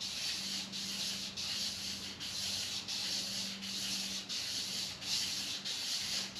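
Abrasive honing of the crankshaft journals on a 1957 Chevrolet Bel Air, a steady, loud gritty rubbing with regular rhythmic pulses each about half a second, continuous throughout with no talking.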